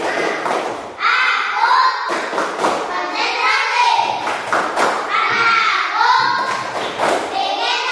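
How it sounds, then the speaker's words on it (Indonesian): A classroom of primary-school children claps a rhythmic concentration routine, loud group claps landing in repeated bursts between stretches of children chanting together, with the claps cutting through the voices. "tepuk konsentrasi."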